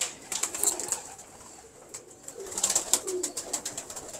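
Breeder pigeons in a loft give soft, low cooing calls in short bursts, clearer near the start and again toward the end, with a few brief flutters and no voices.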